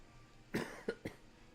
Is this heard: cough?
yes